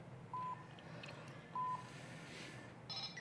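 A Botley coding robot toy gives two short, clean electronic beeps a second apart, then a brighter chirp, faint over a quiet room hum.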